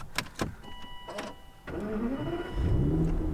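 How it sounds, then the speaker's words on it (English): An Aston Martin Virage starts up: a few sharp clicks and whirs, a cranking starter, then the engine catches at about 1.7 seconds and settles into a loud, rising idle that swells again near the end, heard close with no talk. "an Aston Martin and we're going to start it. Look at the start of this car."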